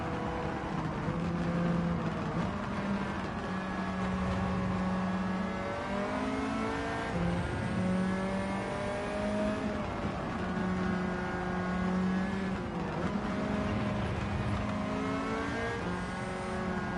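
Race car engine in Gran Turismo 7 accelerating, a loud sustained engine drone rising in pitch through several gear changes, close and continuous with no talking.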